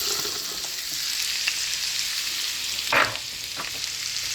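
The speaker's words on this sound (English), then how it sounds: "And now we're just going to put our julienne potato skins in there." Julienned potato skins fry in hot bacon grease in an iron skillet, giving a steady, loud sizzle with a few brief pops and a scrape around the pan.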